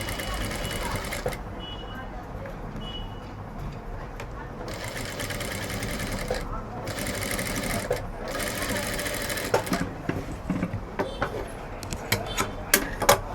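A sewing machine runs close and loud in repeated bursts while stitching thread piping onto blouse fabric, with clicks and knocks between runs and no talking heard.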